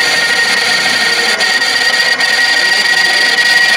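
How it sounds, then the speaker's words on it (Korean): A friction test rig scrapes a conventionally coated steel plate, giving a loud, constant harsh grinding screech with a thin high whine running throughout and no talking. "그냥 그 쇠판을 긁어대는 거기 때문에 소리가 아주 듣기 싫은 소리가 나죠"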